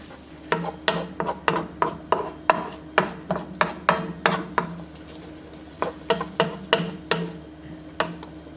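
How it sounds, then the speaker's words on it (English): A spoon scrapes and stirs garlic into a pot of pasta sauce with red peppers and shallot, giving a steady run of sharp, close scraping strokes in a regular rhythm, with a short pause midway and no talk. "I'll stir that in."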